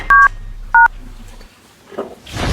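A phone keypad gives two loud, crisp electronic dial tones in quick succession, followed by a quiet pause and some faint rustling.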